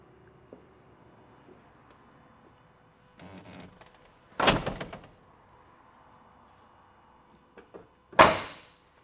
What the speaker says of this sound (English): Door closes nice and tight,